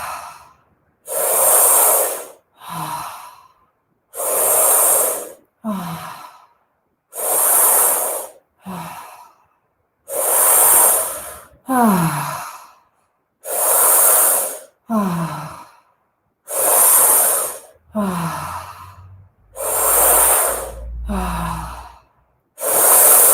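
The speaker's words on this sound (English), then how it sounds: "Let's do 10 breaths together." Ten slow, deep breaths taken during a guided breathing exercise for the body's energy centres, each a loud, breathy inhale and sighing exhale separated by short pauses, close up and with no talking.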